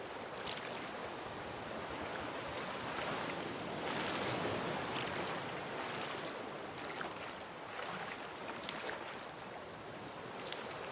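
Rushing ocean water surges and splashes around a raft in the survival video game Raft, a steady, loud, broadband wash with faint wind and no speech.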